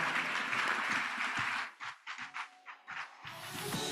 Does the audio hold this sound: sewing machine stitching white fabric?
no